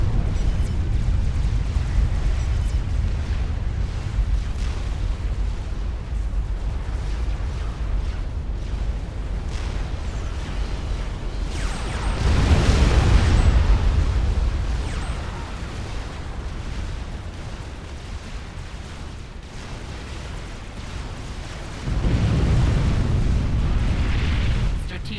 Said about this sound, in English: one nuke, and the next nuke will get through